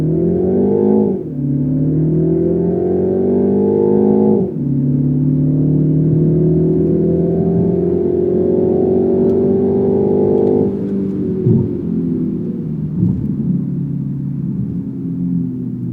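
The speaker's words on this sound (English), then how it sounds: "Let me show you how fast this car accelerates from 0 to 100." A Mini Countryman S accelerates hard from 0 to 100, its loud engine note rising through several gears with brief dips at each shift, then settling into a steady cruising drone and road rumble.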